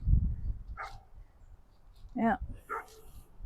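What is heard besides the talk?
dog barking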